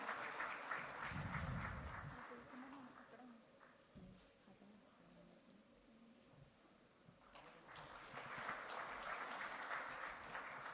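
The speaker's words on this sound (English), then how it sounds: "Let's have a huge round of applause, ladies and gentlemen, to adorn that beautiful gesture." Audience applause at a ports conclave, a soft, distant wash of clapping that fades midway and swells again near the end, faint overall with a brief low thud early on.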